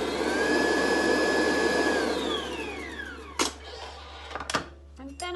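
An electric mixer whisking caster sugar into cream, a loud steady motor whine that winds down and stops, followed by a few sharp knocks and clatters as a voice starts.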